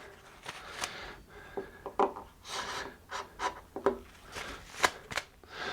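Scraping and rubbing strokes as glue squeeze-out is cleaned off a clamped guitar top, a string of short, irregular, close bursts with brief pauses between them.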